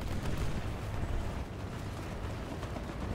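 Deep, booming War Thunder tank cannon blasts over a continuous low rumble, heavy and dense throughout, with a brief dip in the middle.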